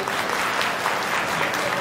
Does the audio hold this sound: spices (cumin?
no